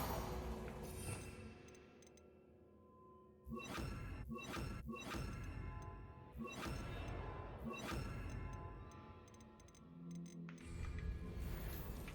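Bombarda blasting spell in Hogwarts Legacy: a burst of heavy thuds and shattering crashes, several impacts clustered in rapid succession after a quieter opening, fairly loud and close.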